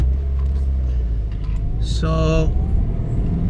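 A 2015 Subaru WRX Limited engine runs while driving, a steady low rumble throughout with a brief rising tonal rev near the middle; someone speaks a single word over it.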